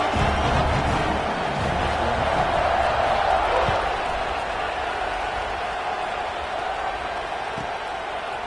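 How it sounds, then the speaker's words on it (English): A stadium crowd buzzes steadily in a college football video game, a dense, continuous roar that holds loud and even from start to finish, with no distinct voices standing out. "this crowd is buzzing after that last score"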